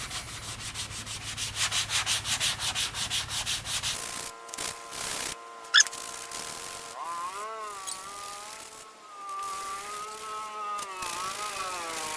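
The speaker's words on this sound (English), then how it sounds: "We'll give it a sanding with this pad" Rhythmic rasping strokes of a hand sanding pad scrub a painted surface on a 2021 Chevy 2500 pickup, then a power tool whines at varying pitch, close and fairly loud.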